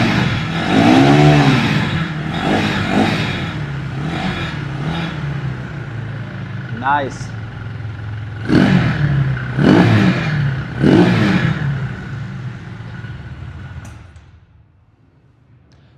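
A 2026 Zonsen ZS 250 E motorcycle idling and being revved: several sharp throttle blips rise and fall over a rumbling idle, with a brief voice and the engine settling before quieting at the end.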